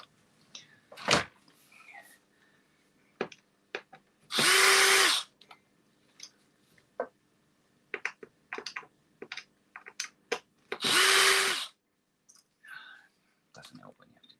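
Power drill backing screws out of a panel in a workshop, two loud whirring bursts of about a second each, separated by clicks, taps and handling noises.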